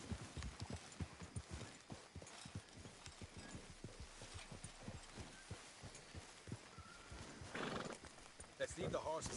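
Horses in the Red Dead Redemption 2 video game walk with quiet, steady clip-clopping hooves, and one horse gives a short neigh near the end. Everything stays faint and low in level.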